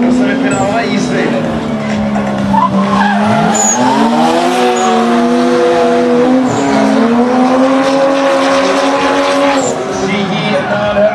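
Mazda drift car fitted with a Toyota 2.5-litre engine, drifting at a competition at Strahov in 2012: loud continuous tire squeal with a wavering engine note, close and sustained, while a commentator talks over it.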